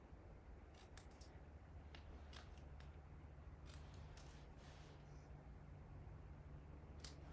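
Scissors cut through paper during card stamping craft work, a series of faint, crisp snips in irregular clusters over a quiet hum, with no talking.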